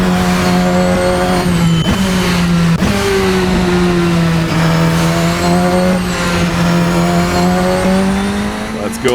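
Race car engine in Assetto Corsa, a monster of a car, held loud and steady with shifting pitch through corners, with brief tire squeal and skids as the back end slides.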